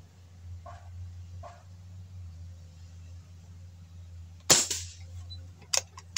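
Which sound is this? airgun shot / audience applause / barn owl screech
airgun shot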